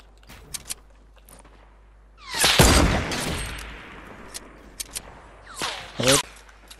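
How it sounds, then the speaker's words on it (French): Gunfire aimed at the player in a sniper video game: several sharp cracks in a dense burst near the middle, then scattered single shots toward the end, with faint background noise between. "ça me tire dessus"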